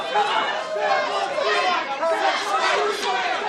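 A wrestling arena crowd reacts to a near fall in a women's match, a dense roar of excited voices and chatter filling the space with swells of noise.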